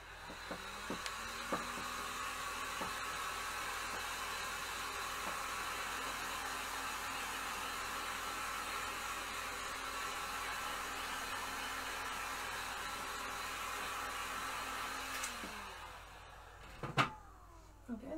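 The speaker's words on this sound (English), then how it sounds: "I'm just going to quickly hit it with a heat gun to speed up the process a little bit." A heat gun dries paint on a canvas, blowing a steady, loud whirring hiss for about fifteen seconds before it shuts off, followed by a few sharp knocks and clicks.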